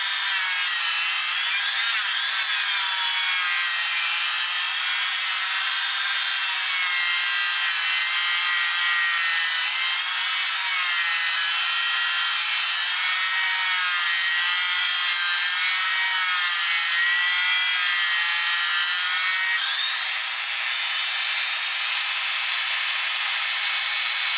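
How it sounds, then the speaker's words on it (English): A buffing wheel spins against guitar frets, a steady high whirring hiss with rubbing friction, continuous and close with no pauses, during fretwork on an abandoned guitar. "I'm using the fretboard protector so that my polishing wheel does not touch anything but a fret."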